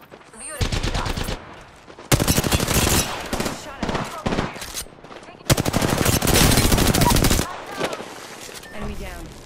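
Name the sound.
gunfire in the video game Apex Legends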